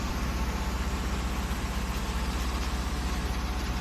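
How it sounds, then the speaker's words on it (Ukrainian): A tractor engine drives at a steady drone in Farming Simulator 22, a continuous low, rumbling hum with no change in pitch and no talk over it. "Давайте надамо чобута цьому трактору."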